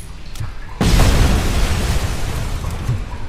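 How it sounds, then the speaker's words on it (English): Grenade explosion in RoboCop: Rogue City: after a quieter stretch, a sudden loud, close blast erupts and rolls into a long, rumbling, debris-filled roar that slowly fades. "Oh shit, there's a grenade."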